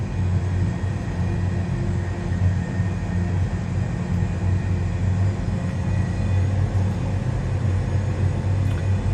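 Airbus A320 engines at low thrust taxiing in a flight simulator game, a steady low rumble that stays even throughout with no talking.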